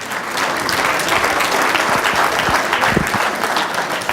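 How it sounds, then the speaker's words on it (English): A live TEDx audience applauds, with dense, steady clapping from a large crowd filling the space loudly and evenly for several seconds. "Give him a round of applause."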